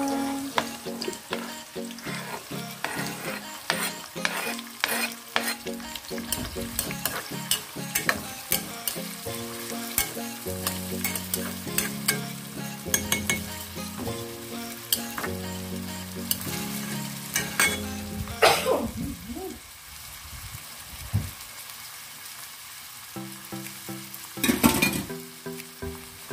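Sambal with dried shrimp sizzles steadily in a pan as a utensil stirs and scrapes through it, the frying noise continuous and close, with occasional clinks against the pan and a brief louder scrape near the end.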